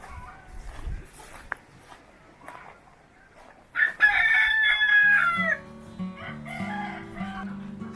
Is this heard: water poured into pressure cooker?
no